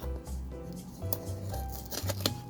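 A knife slices through a mail package with short scraping, tearing strokes in quick bursts, close and fairly loud, with no talking over it.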